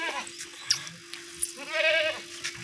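A goat gives a single clear bleat up close, with a few sharp knocks and rustles around it in an otherwise quiet farm setting.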